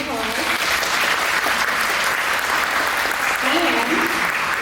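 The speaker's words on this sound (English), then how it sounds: "So let's give them a round of applause." An audience at a women's chapter tea applauds the volunteer servers, with steady, full clapping throughout and a voice speaking over it.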